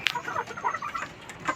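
Chickens in their pen give a few scattered clucks, including one sharp, higher call at the start, fairly close over a quiet background.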